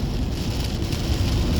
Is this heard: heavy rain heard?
yes